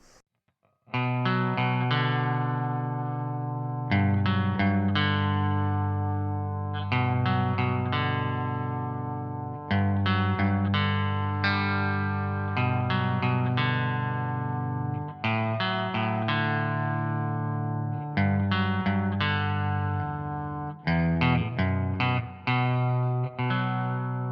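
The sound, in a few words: electric guitar clean tone with reverb and chorus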